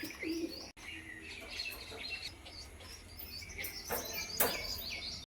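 Soft coos and chirps from a pair of Abluk Madras pigeons sound faintly against a quiet, noisy background, with a few sharper calls near the end.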